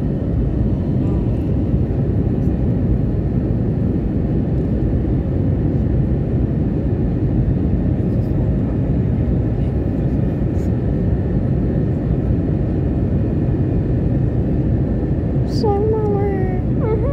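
Wizz Air airliner landing in Budapest, heard from inside as a steady, loud broadband engine and cabin roar that holds level throughout, with faint voices under it near the end.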